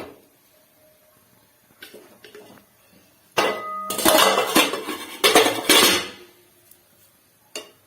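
A lid clatters onto a pan while a dosa cooks, with metallic clanks and clinks of cookware, a sharp knock, then a few seconds of rattling contact and a final tap, close by in a quiet kitchen.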